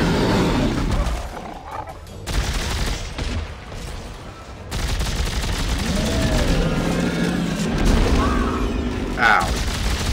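Rapid gunfire and weapon bursts in the sci-fi shooter Dead Space 3 during co-op play, loud and repeated in clusters across the stretch, with a brief quieter gap in the middle and players talking over it.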